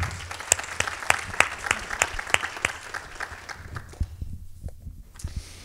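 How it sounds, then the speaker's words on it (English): Audience applause at a nonprofit awards ceremony, a room of people clapping steadily with sharp individual claps standing out, then thinning toward the end. "So let's just give them a quick round of applause."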